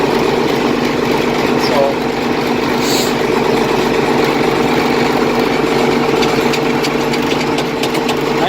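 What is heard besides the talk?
IH 1586 tractor engine idling after cold start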